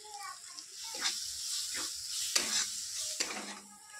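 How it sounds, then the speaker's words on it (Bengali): Spices sautéing in a pan for a Bengali soybean curry with green chilli, turmeric, coriander-cumin powder and Kashmiri chilli powder: several short bursts of frying scrape and sizzle, fairly close, with soft clatter between. "এবারে ভালোভাবে মশলাটা কষানো হয়ে গেছে"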